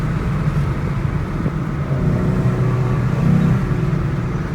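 A Ford Mustang with the 3.7 engine accelerating on back roads, a steady mid-pitched engine drone with rising intake noise that swells toward the end, heard from inside or close by, no talk.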